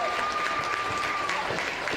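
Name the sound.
crowd applauding the losing team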